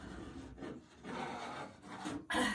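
A hand scraper scraping paint off window glass, faint close rasping strokes in short bursts with brief pauses, ending in a louder scrape.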